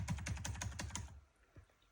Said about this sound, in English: the keyboard on my laptop doesn't work